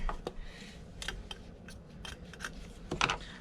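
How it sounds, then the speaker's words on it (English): Scissors, not made for fabric, snip through fabric repeatedly in short, crisp bursts, about a dozen close cuts at an uneven pace, with a faint rubbing of material between them. "cutting fabric without fabric scissors is not recommended"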